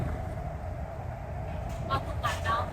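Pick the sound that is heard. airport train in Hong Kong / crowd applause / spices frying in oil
airport train in Hong Kong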